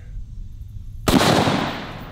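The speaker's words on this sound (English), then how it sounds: "That might be one of the best watermelon explosions we've ever had." A .45-70 rifle shot blows apart a watermelon: one sharp, loud blast that rolls into a broad, decaying rumble after a quiet lead-in, heard alone.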